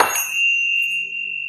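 Tibetan bells struck once with a bright attack, leaving a sustained metallic ring of high steady tones that hangs on clearly for over a second with little else around it.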